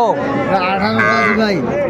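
A two-and-a-half-month-old Friesian heifer calf at the Ambari cattle market in Dinajpur gives a long, close, wavering moo that fills the moment, with faint crowd murmur behind it.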